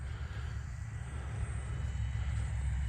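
Low, steady electric drone of a small E-flite UMX Air Tractor radio-controlled airplane in flight, faint and distant, rising slightly toward the end with no voices.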